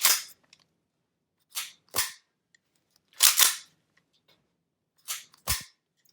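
A 4.5mm air pistol fires about five times in an uneven rhythm, each shot a sharp, loud crack close by with a short tail, separated by near silence.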